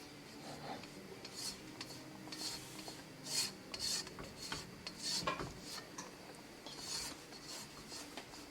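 A spoon scrapes and stirs chicken drumstick and potato curry masala around a pot after water is added, giving repeated rasping scrapes and metallic rubs at a moderate, irregular rhythm, close and fairly quiet.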